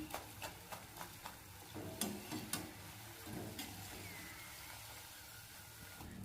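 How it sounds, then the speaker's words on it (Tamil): Sharp, dry crunching clicks come in a quick burst, then fade into a faint background hiss; crispy fried wheat-flour snacks crunching, close but quiet. "நல்லா கிறிஸ்பியாக வந்திருக்கு உங்களுக்கு சவுண்டு கேட்குன்னு நினைக்கிறேன்"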